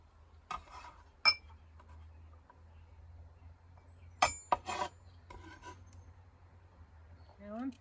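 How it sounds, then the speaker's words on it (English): Fresh ginger root being peeled in a home kitchen: a few short, dry scraping rasps spaced irregularly against a quiet low hum, close and fairly soft. "Now I'm peeling the ginger"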